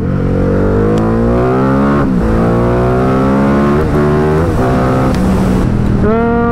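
A Ducati Diavel 1260 motorcycle, new with a short clutch, accelerating hard close up, its loud engine note climbing through repeated rising pulls with brief gear-change dips.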